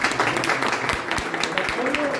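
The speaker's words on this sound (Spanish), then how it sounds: "quizá un aplauso para el ingeniero y para su señora esposa" An audience at a hydraulics talk applauds an engineer and his wife, with steady clapping throughout and a voice speaking over it.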